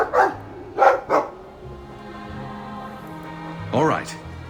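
A dog in the fantasy game Dragon Age II barks in short sharp yelps, three close together and then another a few seconds later, with voices talking around them.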